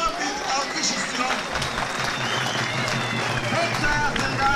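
Crowd applause rises at an outdoor oil wrestling match in Karaculha, Fethiye, Muğla, a steady wash of clapping and cheering that runs throughout, with voices mixed into the noise.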